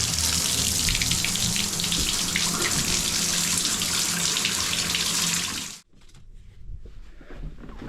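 Hot and cold bath taps running, a steady close gush of water that cuts off abruptly near the end, leaving faint dripping and trickling.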